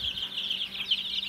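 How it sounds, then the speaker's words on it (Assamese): Local chicken chicks peeping in a brood area, a continuous stream of high, thin cheeps from several nearby chicks, fairly loud and without talking. "ইয়াত লোকেল মুৰ্গী পোৱালি আৰু হাঁহৰ পোৱালি আছে"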